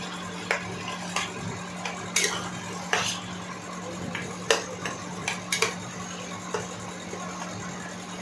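Taro leaves (kochu saag) being stirred in a pan, with irregular scraping and clinking of a utensil against the metal over a low steady hum, moderately close.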